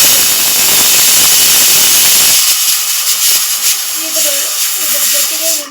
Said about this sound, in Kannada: ಬನ್ನಿ ರುಬ್ಕೊಂಬರೋಣ ಇದನ್ನು ನೋಡ್ರಿ ಇದು ಅಕ್ಕಿನ ನಾನು ಮಿಕ್ಸರ್ಗೆ ಹಾಕ್ಕೊಂಡಿದ್ದೀನಿ